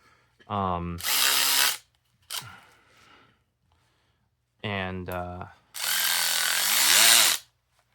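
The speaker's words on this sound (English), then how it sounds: "These ratchets do make a racket" A Snap-on CTR817HV long-neck 1/4 in ratchet gives two loud bursts of rapid clicking, each about a second long, with brief vocal sounds just before each burst.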